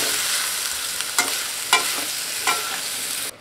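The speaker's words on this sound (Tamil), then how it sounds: "இது கூட வேக வச்ச வாழைக்காயை சேர்த்து நல்லா காந்து விட்டுக்கலாம்." Boiled plantain masala curry with asafoetida fries on a low flame in a pan, with a steady bright sizzle broken by a few scraping stirs of a spoon, close and with no talking.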